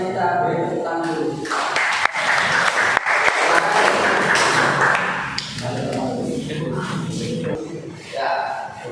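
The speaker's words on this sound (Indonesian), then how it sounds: "Mari kita beri tepuk tangan dulu." A classroom group claps after a student presentation during a teaching practice session, a short burst of close, loud clapping with a few thumps and voices mixed in, tapering off toward the end.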